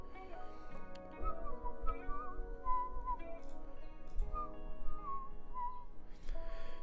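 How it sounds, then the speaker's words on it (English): A person whistles a melodic tune close to the microphone, with clear, steady notes over faint background noise. "When I whistle, I'm right here, so hopefully not too loud."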